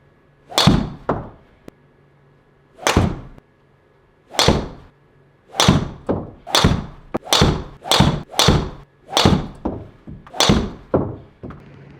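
Golf shots with a Ping G430 MAX driver fitted with a 55 gram regular shaft: a series of sharp, loud impact cracks, some in quick pairs, with irregular pauses between them and no talking.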